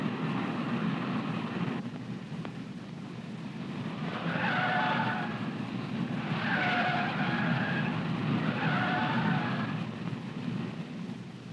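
A 1967 NASCAR stock car laps a tire test course on a fresh set of rayon and nylon tires, engine droning steadily with several drawn-out tire squeals as it corners, moderately distant and without talk.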